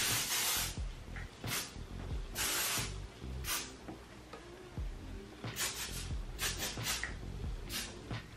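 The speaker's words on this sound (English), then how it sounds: "Maybe I should spray just like a little bit of spray." Repeated short bursts of aerosol spray hiss, close and loud, in quick pulses with brief pauses between them.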